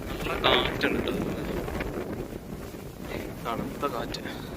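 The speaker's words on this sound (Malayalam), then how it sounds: "നല്ല കാറ്റുണ്ട് കേട്ടോ" Cold wind gusts across an open mountain grassland on the Pulmedu trail to Sabarimala, buffeting the microphone in a steady rushing roar while someone talks over it.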